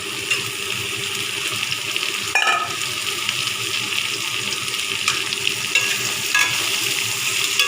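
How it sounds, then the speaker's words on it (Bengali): Onions sizzling steadily in a pan after garlic has browned, a continuous close frying crackle with occasional clinks and stirring scrapes, no voices. "এবারে আমি পেঁয়াজটা ভালো করে লাল লাল করে ভেজে নেবো"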